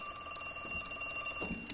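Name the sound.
telephone ringing in video game The Cat Lady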